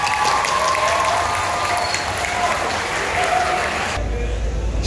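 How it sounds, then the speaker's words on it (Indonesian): A school audience at a vocational high school event in Bogor breaks into loud, continuous applause, many hands clapping densely and evenly, cut off abruptly near the end by a low rumble. "tepuk tangan buat kita semua"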